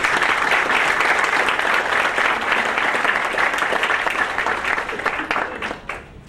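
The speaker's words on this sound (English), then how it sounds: "Let's give another round of applause for our congratulations." Audience applause at a community entertainment event fills the whole stretch, a dense, loud wash of clapping that holds steady and then thins and fades toward the end.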